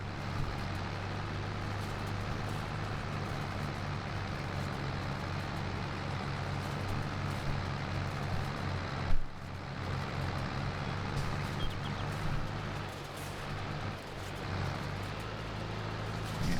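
A tractor engine drones steadily in Farming Simulator 22, loud and close with a constant low rumble throughout, broken only by a brief knock partway through.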